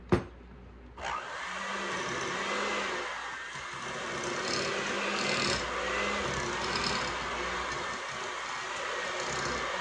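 Tuna fish cake mixture is beaten with real mayonnaise, making a close, steady whirring drone with soft recurring low thumps after a brief knock at the start.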